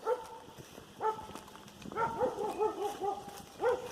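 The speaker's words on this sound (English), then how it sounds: "Sounds like a killer dog up there too." A dog barks from up the trail on the Appalachian Trail in Shenandoah National Park, a few separate loud barks in short bursts with pauses between, moderately close.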